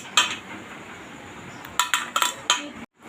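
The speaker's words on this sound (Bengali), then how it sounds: "প্রথমে আমি পেঁয়াজগুলো দিয়ে দিচ্ছি" Chopped onions tipped onto fish roe in a kitchen bowl for pakoras, heard as a soft rustling scatter followed by several quick clinks of a utensil against the dish.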